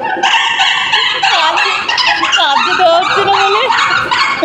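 A human voice imitating a puppy yelping, a rapid run of high whimpering yips and squeals, loud and close, continuous over a few seconds.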